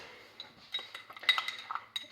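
Spoon stirring salt into lukewarm water in a jar, producing scattered light metallic clinks and taps against glass, faint and irregular.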